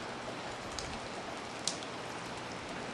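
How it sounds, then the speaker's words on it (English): Dense, steady hiss of heavy rain pouring down, with scattered louder drops tapping nearby surfaces. "it's raining hard on October 26th"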